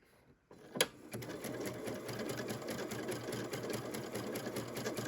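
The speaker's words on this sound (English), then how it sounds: "So I'm just gonna slide this right underneath here and do a little stitching." A sewing machine fitted with a 3-hole cording foot starts up after a brief quiet moment. It settles into a fast, even, rattling run of stitching that is close and steady with no talking.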